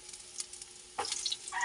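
Ginger hitting a hot cooking pot for chicken arroz caldo gives a quiet start, then a sudden loud sizzle about halfway through that keeps crackling and frying to the end, close up with no talking.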